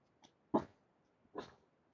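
A dog indoors gives two short, faint huffing barks or whines about a second apart, with quiet gaps between.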